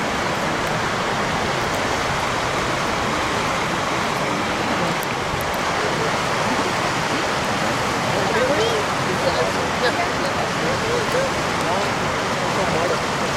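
A creek near Lassen Volcano flows with a constant broadband rush of water, steady and fairly loud throughout, with people talking faintly in the background.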